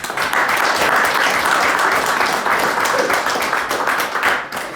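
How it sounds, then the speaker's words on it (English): An audience at a beer-brewing panel on New England IPA gives the panelists a round of applause, loud, dense and continuous clapping close by that fades slightly near the end. "Give the panelists a round of applause, guys."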